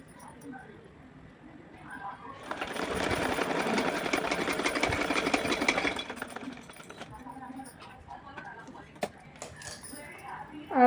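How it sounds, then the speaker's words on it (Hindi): A domestic sewing machine runs in one steady burst of several seconds, stitching fabric for a small Radha doll dress, fairly close and moderately loud, with quiet handling noises and faint background sounds before and after. "इस तरह से इस पर एक मैं सिलाई लगा दूंगी।"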